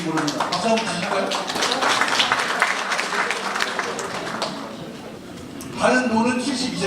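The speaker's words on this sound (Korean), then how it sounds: "박수 한번 주실까요?" An audience at a county community talk concert applauds in a dense burst of clapping, which tapers off before a voice starts speaking again near the end.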